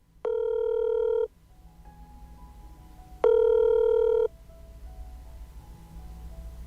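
A phone call rings out unanswered before going to voicemail. Two loud, clear electronic ringback tones sound about a second each, separated by a pause of roughly two seconds, over a quiet background.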